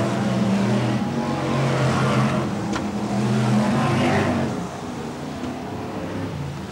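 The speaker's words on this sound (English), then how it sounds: "BriSCA Formula 1 stock cars." BriSCA Formula 1 stock cars racing at King's Lynn in 1994, a loud continuous roar of several engines revving and droning around the oval, steady and close before easing slightly toward the end.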